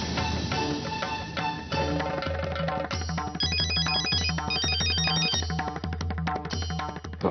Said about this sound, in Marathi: बघ, सत्यजितचाच फोन आहे.